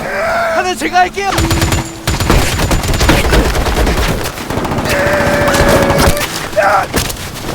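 Rapid bursts of gunfire crackle and rattle in dense volleys, loud and close, with other sharp impacts and brief tonal sounds mixed in.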